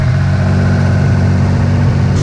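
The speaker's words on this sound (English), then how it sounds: "The idling's so damn high." A Mitsubishi 3000GT VR4 engine idles abnormally high at a steady, elevated drone, loud and close, with constant low rumble and no talk.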